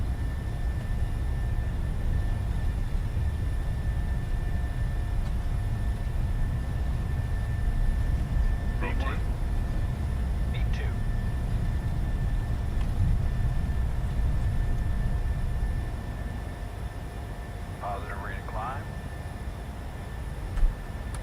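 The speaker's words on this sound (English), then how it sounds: "Longer takeoff roll. We've got a hella reduced thrust here." A PMDG 737-600 jet rolling down the Calgary runway for takeoff on reduced thrust in Microsoft Flight Simulator, a steady loud engine roar and rumble holding throughout, with brief voice callouts over it.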